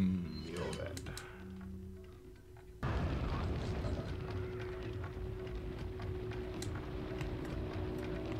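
An explosion in the video game Resident Evil 4 Separate Ways hits suddenly a few seconds in, a loud boom that settles into a sustained, dense rumble after a quieter, sparser stretch.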